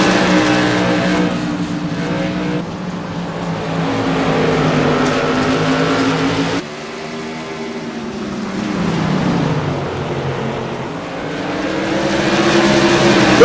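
Modified race cars roar around a four-tenths-mile short oval at Southern National Motorsports Park, a loud continuous drone of engines that rises and falls as the pack passes, with no talk.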